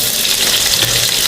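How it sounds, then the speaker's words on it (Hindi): Chopped onions frying in a pan for beef keema pulao, a steady, loud broadband sizzle that holds without pause throughout, with no voices. "थोड़ा सा फ्राई करने के बाद हमने साथ इसके प्याज डाल दिया।"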